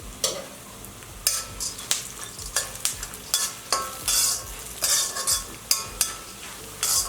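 Garlic and roasted gram frying in oil for churumuri, a constant sizzle broken by repeated sharp scrapes and clanks of a spatula against the pan, close and rhythmic without talk.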